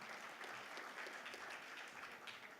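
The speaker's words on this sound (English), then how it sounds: "Another round of applause for our panelists, please." A conference audience at a railway industry event gives a round of applause for a panel. The steady, even clapping of a seated crowd is fairly soft and distant, with no voices over it.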